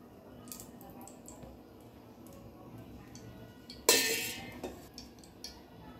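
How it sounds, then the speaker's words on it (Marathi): Okra is sliced with a kitchen knife: one sharp, loud chop stands out near the end, followed by a few lighter taps over a faint, steady background. "आता आपण चिरू भेंडी"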